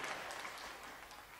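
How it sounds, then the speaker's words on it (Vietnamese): An audience at a stage show applauds a guest singer, with steady, dense clapping that fills the whole moment at a fairly low, distant level. "Xin quý vị hãy dành cho anh Lê Tuấn một tràng pháo tay thật lớn được không ạ?"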